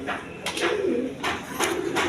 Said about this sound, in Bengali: এইখানে এক পেয়ার শার্টিং কবুতর আছে আপনারা দেখেন ব্ল্যাকলেস শার্টিং একদম কোয়ালিটি সম্পন্ন কবুতর